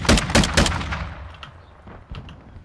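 Video game gunfire comes as several loud, rapid bursts of shots up front, then fades to scattered fainter shots and a quieter tail.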